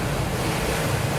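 Steady wind and rushing ocean water around a solo sailboat moving at 14–15 knots on the Atlantic, a loud continuous broadband roar with no break or voices.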